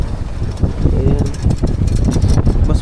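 Strong habagat monsoon wind blows across a boat on choppy seas while the crew secures the ropes: a loud, continuous buffeting roar with gusty surges and low rumble, close to the microphone.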